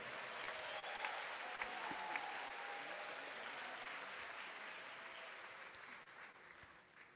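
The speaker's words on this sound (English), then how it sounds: "Can we give them a big round of applause?" Sustained applause from an audience welcoming newly qualified medical and dental practitioners at an induction ceremony, loud and dense clapping throughout that tapers slightly near the end.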